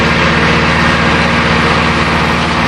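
A tractor engine runs loud and close, a steady droning idle with a low harmonic hum and a continuous rough mechanical texture that holds unchanged throughout, with no voices.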